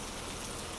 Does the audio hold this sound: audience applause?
no